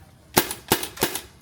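An airsoft gun fires with ammo, three crisp, evenly spaced snapping shots close up, each followed by a quick rattle.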